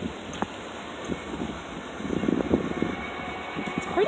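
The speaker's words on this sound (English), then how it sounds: "It's pretty windy today" Wind gusts outdoors, a low broadband rush rising and falling in uneven puffs, strongest midway, with mild microphone buffeting and no talk.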